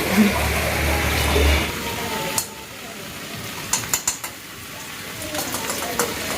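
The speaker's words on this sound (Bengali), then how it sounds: "মা মেজে কড়াইতে তেল দিয়ে দিচ্ছে" White cooking oil and ghee sizzle in a wok, a strong hiss at first that drops back, followed by several sharp clinks and scrapes of utensils against the pan.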